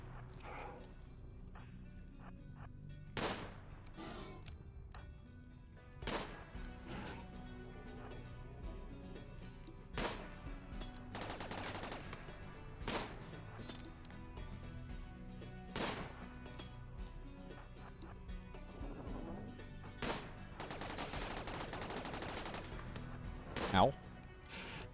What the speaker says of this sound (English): We start shooting.